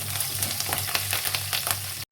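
Onions and green chillies hit hot oil with fried lentils while rava pulihora is being tempered, giving a steady, close crackling sizzle that cuts off briefly at the end.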